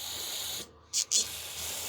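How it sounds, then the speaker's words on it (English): Carb cleaner is sprayed into the carburetor of a neglected Homelite power washer in two short, sharp hissing bursts. Each is close and loud, over a steady background hiss. "Let's get some carb cleaner and try to spray that."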